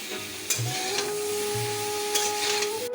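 Vegetables including drumstick, potato and eggplant, seasoned with salt and turmeric, stirred and sautéed in a pan: steady close sizzling with repeated scraping strokes of a spoon against the pan.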